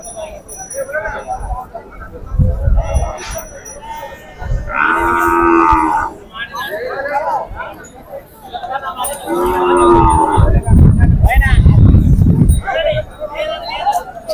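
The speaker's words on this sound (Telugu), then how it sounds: "ఇక్కడ చిన్న సైజు ఎద్దులు అయితే ఉంది, పాలపల్ల ఎద్దులు" Working bulls, including small dairy-breed bulls, low loudly twice in long drawn-out moos at the Pebbair cattle market in Wanaparthy district, Telangana, amid steady crowd chatter, people talking and market bustle.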